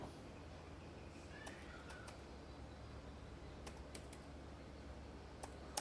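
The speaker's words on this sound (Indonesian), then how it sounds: "Jadi di sini kita ketik" Someone types a fastboot command on a laptop keyboard. A few faint, scattered key clicks come through over a low room hum.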